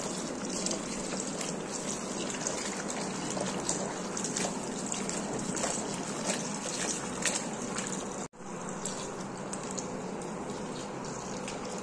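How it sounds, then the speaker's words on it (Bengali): Food being washed by hand under running water in a home kitchen, a steady soft trickle and splash continuing throughout with a brief break near the end. "দেখো ভালো মতো ধুয়ে নিচ্ছি।"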